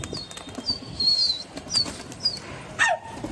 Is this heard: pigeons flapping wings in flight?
yes